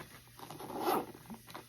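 A zipper on a Louis Vuitton bag made in 2005 is drawn open in one near, steady scratchy pull that swells and fades, heard alone without talk.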